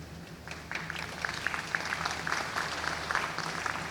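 Audience applause at an education ministry back-to-school meeting in 2019. Scattered hand claps from a fairly distant crowd start faintly and build into moderate, steady clapping over a low hum.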